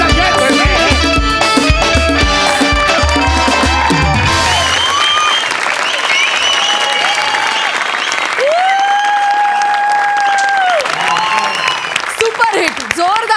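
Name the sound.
audience applause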